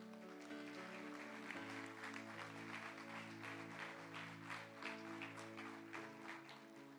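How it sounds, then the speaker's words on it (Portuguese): Church congregation applauding steadily during a service, a dense wash of clapping that runs the whole time over sustained keyboard or organ chords. "Então, por favor, dê um aplauso a Jesus."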